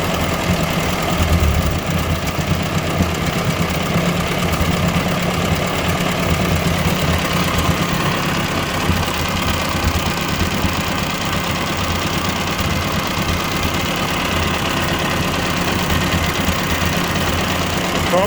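A 1957 Ford 841 tractor engine idles steadily after carburetor work, a loud, continuous low rumble with a slight knock, running alone without talk.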